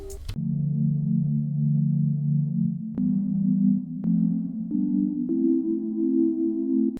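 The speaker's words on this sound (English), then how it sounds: "Pretty nice lo-fi chord sound" A lo-fi chord patch from the Serum software synth holds warm, low sustained chords that shift at a few soft attacks, playing steadily and alone with no voices over it.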